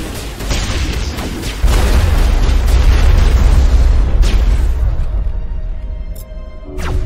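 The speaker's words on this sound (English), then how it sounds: "So you use sabotage on that to make the explosion bigger" A loud, sustained explosion in the video game Mass Effect on Noveria, a deep booming roar that rumbles for several seconds before fading, with a sharper burst near the end.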